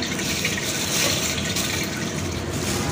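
Boiled eggs being rinsed in water, a steady close wash of running, splashing water with a dense hiss throughout and no pauses.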